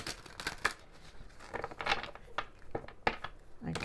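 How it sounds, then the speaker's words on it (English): Tarot cards shuffled by hand in several short riffling bursts, close and fairly quiet, with brief pauses between them and no talking. "Okay, one more shuffle."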